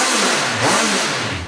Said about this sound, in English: Triumph have done wonders with this stock exhaust